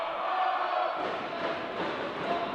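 Two rival crowds of high school wrestling fans, Sailors and Vaqueros, chant and cheer against each other at a varsity match, a continuous muffled roar that thickens after the first second.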